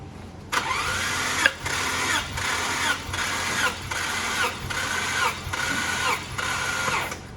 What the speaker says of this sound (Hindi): उसके बाद हम इंजन को जो है वो 8 चक्कर पूरे देंगे।